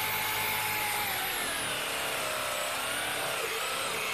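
An electric car polisher buffs paint with a steady high-pitched whine and a fluctuating grinding hiss. It runs continuously and close up, with no talk.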